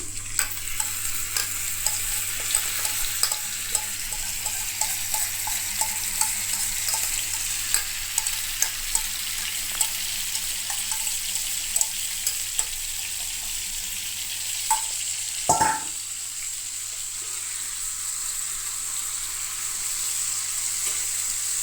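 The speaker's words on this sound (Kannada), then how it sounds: "ಈಗ ಇದರಲ್ಲಿ ಮ್ಯಾಗಿನೇಟ್ ಮಾಡಿ ಇಟ್ಕೊಂಡಿರೋ ಪನ್ನೀರನ್ನು ಹಾಕೋಣ" Marinated paneer fries in a pan over medium flame under a steady, close sizzle, with regular light scraping taps from stirring, one louder knock partway through, then a continuous hiss.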